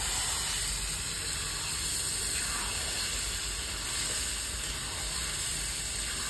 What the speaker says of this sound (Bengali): বন্ধুরা মেরিনেশন করে চিকেনটা ঢেলে দিচ্ছি।